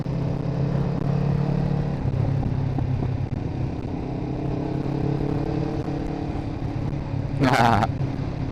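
A three-wheeled vehicle passes on the Tail of the Dragon mountain road, its engine rumbling steadily close by before a brief sharp burst near the end.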